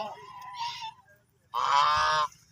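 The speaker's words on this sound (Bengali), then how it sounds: "এই যে আমার হাঁসগুলো এখন খামারের দিকে যাবে দেখে হাঁসগুলো ছুটাছুটি করতেছে" Geese honking on a farm as they run toward it, a shorter call followed by a loud, sustained burst of several overlapping honks, close by with no talking.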